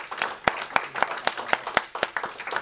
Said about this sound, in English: just get the claps, man